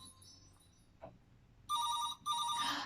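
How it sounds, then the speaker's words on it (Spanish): A telephone rings in two bursts of bright, buzzing electronic trills after a quiet start with a faint knock, each ring loud and close, heard alone without talk. "Es el teléfono"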